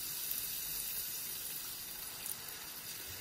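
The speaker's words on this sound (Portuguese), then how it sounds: "Vou juntar também um pouco de água" Water pours from a tap into a pan of cooking onion and parsley, a steady hiss of filling liquid held at an even level throughout, with no talking.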